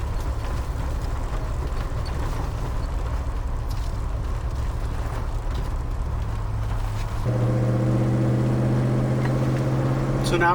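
A car driving around at night gives a steady, close road and engine rumble with broadband noise. Partway through, a stronger droning hum joins in and holds to the end.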